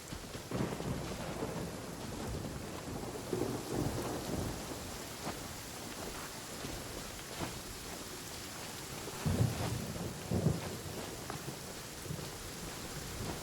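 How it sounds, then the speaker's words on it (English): Thunderstorm with steady rain in the video game Genshin Impact, a continuous dense rain hiss with low rumbling thunder swelling a few times, notably two stronger rolls near the end. "Hey, it's just a little lightning."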